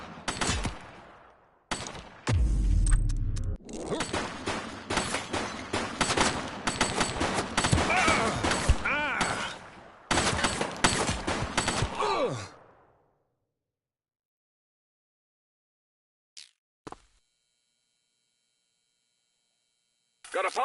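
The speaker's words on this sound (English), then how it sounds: "He's shooting!" Rapid gunfire bursts in the police video game The Precinct, dense loud volleys for about ten seconds mixed with game voices, then fading to near silence with a couple of brief distant pops.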